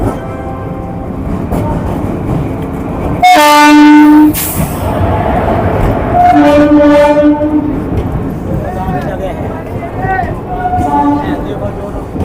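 Ranikhet Express train at Kathgodam platform: a loud horn blast rings out over rumbling carriages, followed by further horn tones and rolling wagon noise, with a voice speaking nearby.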